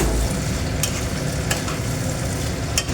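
Chopped tomato frying in a pan for chilli fish, a close, steady sizzle with a few sharp stirring clicks spaced about a second apart.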